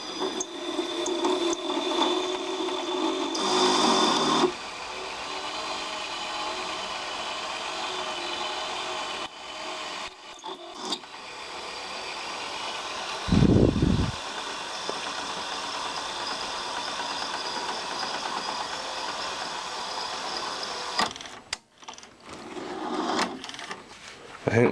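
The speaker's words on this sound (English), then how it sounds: "I think this motor's got noisy bearings." A Ferguson 3V36 VHS recorder motor with noisy bearings whirs and grinds with shifting pitch while rewinding, interrupted by clicks, a low thump and brief pauses, close and moderately loud.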